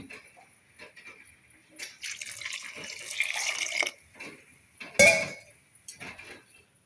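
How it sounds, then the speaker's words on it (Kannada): Water is poured into a cooking pot of potato, brinjal and soaked chickpea masala sambar, a close splashing stream lasting a couple of seconds, followed by a short sharp splash and a metallic clink in a quiet kitchen. "ಸ್ವಲ್ಪ ನೀರು ಹಾಕ್ತಾಯಿದ್ದೀನಿ."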